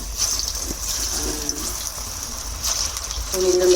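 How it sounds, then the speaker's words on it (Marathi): Alu vadi, colocasia leaf rolls, fry one by one in hot oil with a soft, continuous sizzle and bubbling, moderately close, and no one speaks over it. "तर आता आपल्या वड्या एक एक करून तळून घेऊ आपण."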